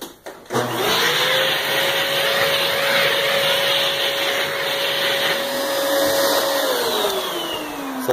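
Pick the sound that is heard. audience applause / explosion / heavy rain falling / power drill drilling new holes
power drill drilling new holes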